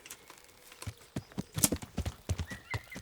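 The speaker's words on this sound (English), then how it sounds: "Trying to call the horse over." A horse in the medieval video game Kingdom Come: Deliverance whinnies once sharply while its hooves clop in an irregular walking rhythm, close and moderately loud, with no talk over it.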